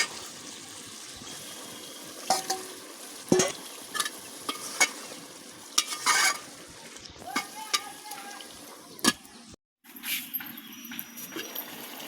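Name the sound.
fish added to frying bottle gourd in a pan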